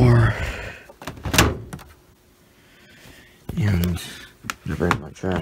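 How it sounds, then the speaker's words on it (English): The door of a Maytag washing machine shuts with a single solid thunk between stretches of a person talking, set in a quiet room. "close the door."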